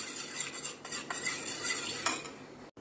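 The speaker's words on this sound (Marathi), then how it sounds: "आपण हे फेटताना नीट फेटून घ्यायचे की जेणेकरून याच्यामध्ये लम्स तयार होणार नाहीत" A spoon whisks custard mixture in a bowl, giving quick, close, irregular clinks and scrapes against the sides for a few seconds with no voices.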